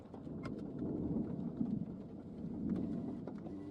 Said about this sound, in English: Oh wow, y'all hear that thunder?